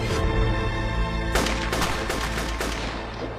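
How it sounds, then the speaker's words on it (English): A single loud gunshot cracks out over a low rumbling dramatic score, followed by a trailing series of decaying reports and echoes. "A single gunshot ends everything."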